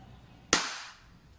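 A WE Glock 18c Gen 4 airsoft gas blowback pistol fires one sharp, loud shot at close range, followed by a short hissing decay of gas.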